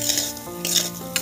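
Dried fish frying in a pan with seasonal onion stalks being stirred in, a soft sizzle under scraping stirs and a few light utensil taps, close and moderately quiet.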